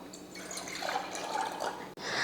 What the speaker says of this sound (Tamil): பாட்டமில் தண்ணி ஊற்றி விட்ருவோம்.